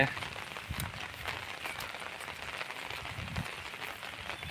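Rain falls on a surface nearby, a constant soft patter with scattered sharper drips standing out now and then, while cows graze in a field.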